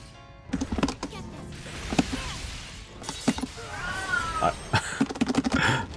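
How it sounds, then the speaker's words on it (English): A pet cat at home meows loudly in a few drawn-out calls, close by, mixed with a voice talking and bursts of background game noise. "My cat."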